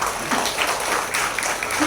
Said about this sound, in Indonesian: Tepuk tangan dulu untuk para perempuan